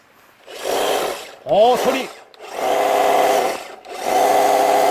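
An electric hedge trimmer runs in three sustained, fairly loud bursts, smooth and steady, with a short spoken remark between the first two.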